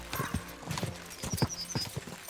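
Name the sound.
horse galloping in video game Kingdom Come Deliverance II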